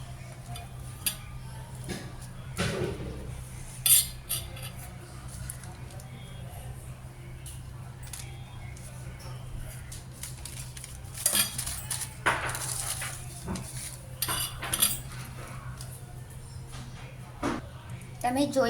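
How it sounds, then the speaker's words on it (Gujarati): A knife scrapes and taps as it spreads a coating over a biscuit wrapper, giving small clinks and scratchy strokes at an uneven pace beneath a steady voice explaining the steps. "આ બિસ્કિટ રેપર પર નાઇફથી કાં તો તમારી ફિંગરથી લેયર કરવાનું છે."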